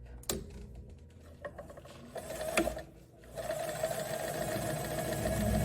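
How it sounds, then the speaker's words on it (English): Sewing machine stitching along the pocket bag seam of wide-leg pants, quick bursts of needle whirring separated by short pauses, then a longer steady run, close and fairly quiet. "So I'm going to stitch on the pocket bag side."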